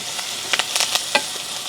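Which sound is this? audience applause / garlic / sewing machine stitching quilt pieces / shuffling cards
garlic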